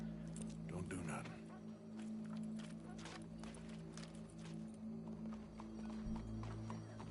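Rhythmic clip-clop of horse hooves in Red Dead Redemption 2 under a continuous low hum, with faint talking mixed in.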